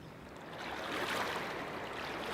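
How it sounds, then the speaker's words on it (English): A crystal clear river current flows over stones, making a soft, steady rushing and burbling wash that stays faint and even throughout. "Listen to the noise of crystal clear river."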